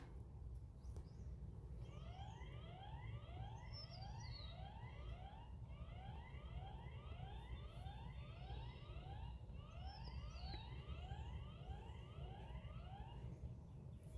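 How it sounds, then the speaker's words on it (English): A CYVIO N1812 security camera system's alarm siren sounds faintly over a steady low background hum, rising electronic whoops repeating in rapid bursts across the clip. "So you can hear that alarm going off."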